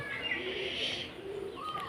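Feather-footed pigeons cooing in a village coop, a soft, fairly faint murmuring coo with some faint chirps, continuous over light background noise; no voices.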